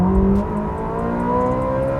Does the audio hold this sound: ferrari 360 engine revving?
yes